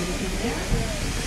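The 1880 steam train pulls into the Hill City depot in South Dakota, giving off a continuous broadband steam hiss over low rumbling, close and fairly loud throughout.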